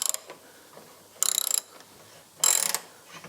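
A wrench ratchets on a 6 mm bolt on a BMW Z3 rear axle, with three short bursts of rapid clicking separated by quiet pauses, close and clear.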